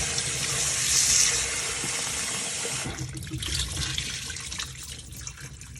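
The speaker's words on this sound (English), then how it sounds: "We're gonna rinse it off and start with our seasoning." Tap water runs steadily as salted cucumber is rinsed, a loud hissing flow that turns into softer, uneven splashing partway through.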